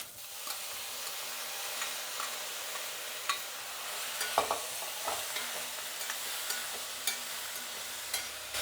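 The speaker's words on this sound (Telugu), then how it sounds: "ఎర్రగడ్డలు అనేది బాగా వేయించుకోవాలి." Onions with a little turmeric stir-fry in a pan, with beans going in as well, giving a steady close sizzle broken by occasional scrapes and taps of the spoon.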